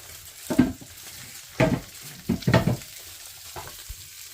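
Chilli chicken is stirred in a hot pan in several separate scraping bursts, each a short sizzling rasp of the utensil against the metal with pauses between, close and moderately loud.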